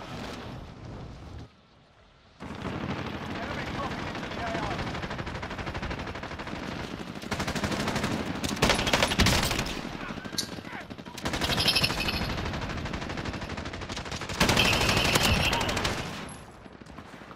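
Automatic weapon fire from a 7.62 rifle in Call of Duty Modern Warfare roars in long, loud sustained bursts with short gaps, and voices talk faintly beneath the shooting.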